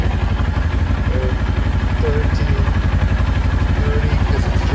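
A 2007 Kawasaki Versys motorcycle engine idling just after starting, a loud, steady, even chugging pulse held at close range with a faint metallic clatter and no talking.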